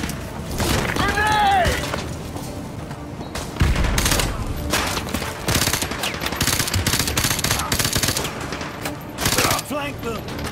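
Call of Duty: Modern Warfare 2 Remastered combat, dense rapid gunfire, machine-gun bursts and booming explosions in loud sustained succession, with game voices talking over the battle.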